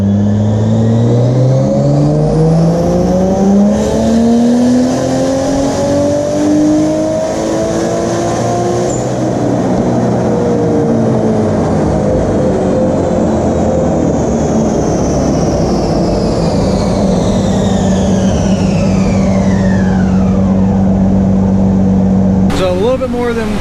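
A Toyota 2ZJ-engined Nissan S13 revs hard on a dyno, its pitch climbing smoothly and steadily through a long, loud pull before dropping back to a steady high idle, close and continuous throughout.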